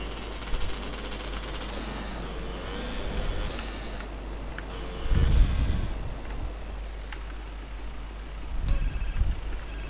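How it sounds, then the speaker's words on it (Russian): Phone ringing inside GTA San Andreas, a steady electronic ring that carries on through the clip over in-game background noise and a low rumble, with no talking. "О, кто-то звонит."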